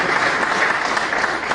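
Audience applause at a county freeholder meeting, a dense steady clapping from a room of people, close and continuous throughout with no talking.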